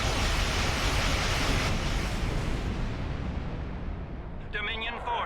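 Starship torpedoes fire in Star Trek Online as a loud, dense rushing roar that fills the clip and slowly fades, with a brief electronic voice-like warble at the very end.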